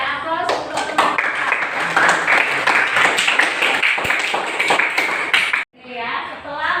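Classroom applause for a classmate, with many hands clapping in a quick, uneven patter close by while children's voices mix in, stopping abruptly before a voice speaks.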